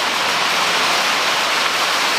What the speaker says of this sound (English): it's too loud in the building with the rain coming down